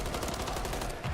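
Rapid gunfire from a Call of Duty League championship match, a dense continuous burst of automatic shots at steady volume throughout, with no talk.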